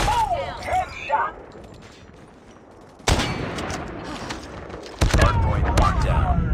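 Gunfire bursts from the mobile shooter Call of Duty Mobile during a Hardpoint match, with loud rapid volleys cutting in at two points after a quieter stretch, mixed with in-game voice callouts.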